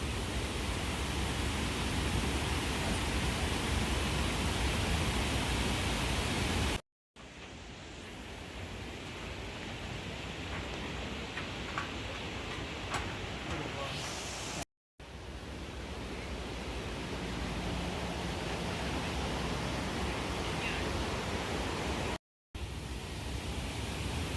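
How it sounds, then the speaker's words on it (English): Roaring water at Iguazu Falls on the Argentina–Brazil border, a steady broadband rush with no breaks except brief cuts, loud and continuous with no voices. "Ah yes, Waterfall ASMR."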